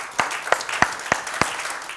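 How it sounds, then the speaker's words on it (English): Five sharp hand claps spaced about a third of a second apart, fairly close and distinct, at a Sunday church service, with no talk over them. "Give him another hand clap."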